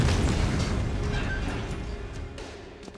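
A pipe bomb goes off in a newspaper building, a loud deep boom that rolls into a long rumbling, crackling decay and slowly fades over several seconds.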